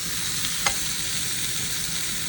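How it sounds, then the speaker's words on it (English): A hot dog sizzles steadily up close inside a Hamilton Beach breakfast sandwich maker, a dense crackling hiss with one brief tap partway through. "You can hear that hot dog sizzling in there."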